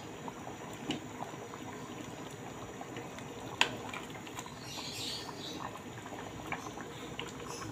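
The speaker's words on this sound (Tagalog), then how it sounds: "Ano po, kumukulo-kulo." A pot of soup bubbles at a steady rolling boil, a continuous low patter of popping bubbles with a faint click partway through.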